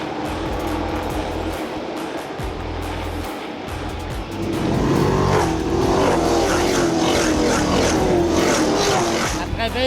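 Race cars at a drag racing event roar past on the track, a steady loud engine drone that swells midway and holds, with an announcer talking over it.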